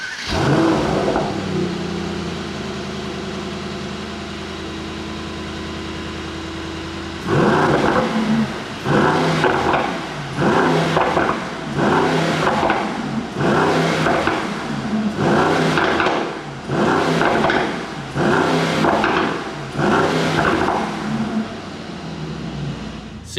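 A 2021 Mercedes-AMG E63 S sedan's V8 starts with a whirring crank and settles into a loud idle, then a run of sharp, repeated throttle blips rises and falls close by, with no talk over it.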